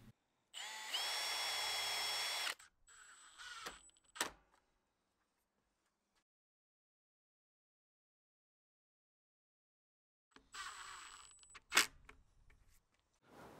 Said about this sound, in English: I'm going to drill some pilot holes and then screw them in place